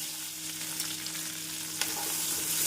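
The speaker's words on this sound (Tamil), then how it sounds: "இந்தளவு வெங்காயம் வதங்குவோம்" Onions sizzle and crackle steadily in hot oil with rock salt, close and fairly loud, with occasional stirring scrapes, while cooking chicken curry.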